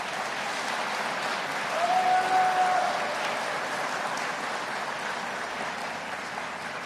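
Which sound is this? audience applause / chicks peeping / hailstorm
audience applause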